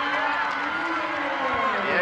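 Home crowd in a basketball arena at an East Carolina vs Cincinnati women's game roars in a loud, sustained wash of cheering and shouting, swelling slightly toward the end, with a commentator's voice faintly mixed in.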